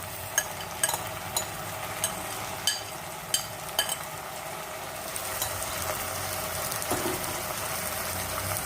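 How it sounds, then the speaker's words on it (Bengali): Meat for laal maas sizzles and fries steadily in hot oil in a pan, with several sharp clinks of a spoon against the pan early on, then a continuous close hiss; no talking. "একদম এই তেলেতেই কষিয়ে কষিয়ে ভাজা হবে"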